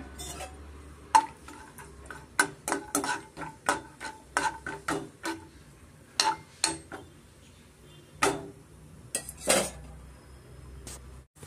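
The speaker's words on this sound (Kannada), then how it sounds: "ಮೊದಲಿಗೆ ನಾವು ಕಡಲೆಕಾಯಿ ಬೀಜನ ನಾವು ಫ್ರೈ ಮಾಡಿ ಇಟ್ಕೊಳ್ಳೋಣ" Peanuts tossed and fried in a pan give a series of sharp, close clinks and rattles against the metal, bunched in irregular bursts with brief pauses and no talk.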